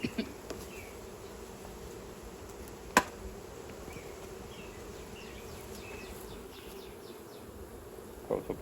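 Honeybees buzzing around a hive entrance, a faint, steady, diffuse hum of many insects with a few louder passes and small clicks, no voices.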